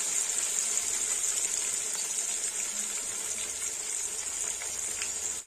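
Salt-and-turmeric rubbed rohu fish fry in hot oil, three pieces at a time, with a steady, even sizzle held close throughout before cutting off abruptly.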